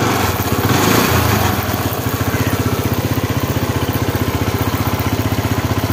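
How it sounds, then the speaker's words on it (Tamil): A vehicle engine running after a fuel pump repair, settling from a brief rev into a steady, even idle chug with a fast regular pulse, close and loud throughout. "வண்டி வந்து ஸ்லோ ஸ்பீட் ஆகுது, கரெக்டாக ஸ்டார்ட் ஆகுது, ஆஃப் ஆகுது"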